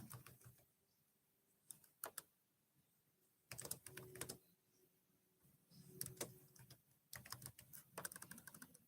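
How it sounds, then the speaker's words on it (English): Quiet bursts of typing on a computer keyboard, short clusters of soft rapid key clicks separated by pauses, heard close but faint against a low, quiet background. "I will type this in."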